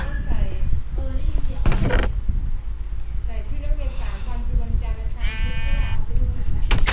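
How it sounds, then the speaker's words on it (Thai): Goat bleats ring out in a survival video game, with a wavering call near the middle and a longer one toward the end, mixed with a voice talking and game noise. "รู้สึกก็ได้ยินเสียงแพะนะ"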